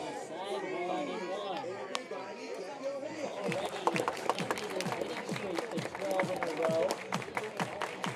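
Billings Mustangs baseball crowd at the ballpark clapping hands together in a coordinated beat, sharp rhythmic claps building over chatter and general crowd noise, with an announcer talking over it.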